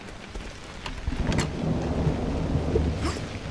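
Heavy rain pours steadily while thunder rumbles and cracks through a storm in the horror game Cry of Fear, loud and enveloping with no voices.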